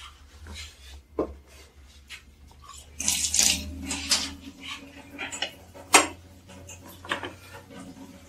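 Water from a tap splashes into a basin around a pudding pot for cooling, with metallic clinks of the pot and bursts of running water over a low background hum.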